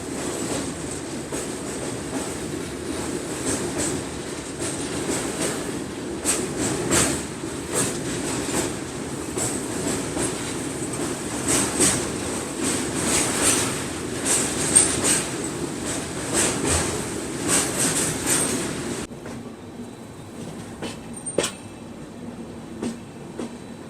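Poorvottar Sampark Kranti train crossing the Sonpur–Hajipur bridge, heard from aboard: a steady loud rumble with rhythmic clattering of wheels over joints, then a quieter stretch with scattered clicks.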